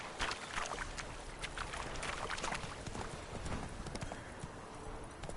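Roach the horse in The Witcher 3 gallops with a rapid, continuous patter of hoofbeats under a soft, watery rustle, held at a moderate, even level throughout.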